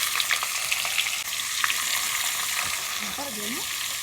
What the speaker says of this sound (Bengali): এবার দিয়ে দিচ্ছি কুচনো পেঁয়াজ।